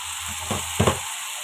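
Curry sautéing in oil in a pan gives two short bursts of stirring and sizzling, close and moderately loud, with quiet pauses between them and no talking.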